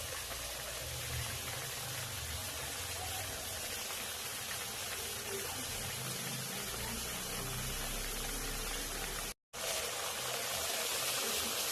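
A mustard and fish curry bubbles steadily in its pot, a constant close simmering hiss with a very brief dropout near the end and no clear speech.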